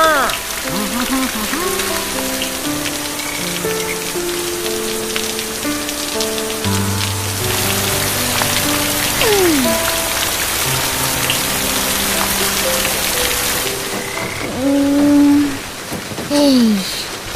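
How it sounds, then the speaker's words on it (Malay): Heavy, non-stop rain in the animated cartoon Upin & Ipin hisses as a dense, steady wash behind layered musical tones and a few sliding whistles, loud and continuous. "Boleh pula hujan lebat tak berhenti-henti."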